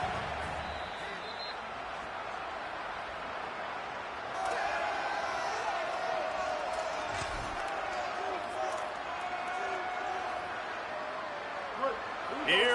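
A home football stadium crowd roars and cheers during a Texas A&M–Arkansas game as the defense faces third down, a steady dense wall of crowd noise that swells louder partway through and holds, with a commentator talking over it.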